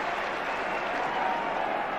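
Football crowd applauding on the Kop at Anfield during a 1986-87 Liverpool versus Everton derby, a steady, dense wash of distant clapping from a large terrace that holds even throughout.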